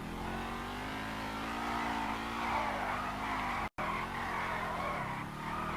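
A car in the GTA V video game drives with power steering, engine revving while its tires skid and squeal loudly and continuously, briefly cut out near the end.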